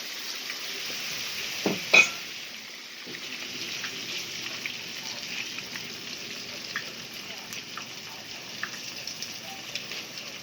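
Squash blossoms coated in tempura batter fry in hot oil, giving a steady close sizzle with a few sharp pops near the start.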